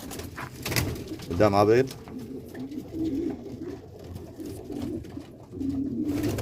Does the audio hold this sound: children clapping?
no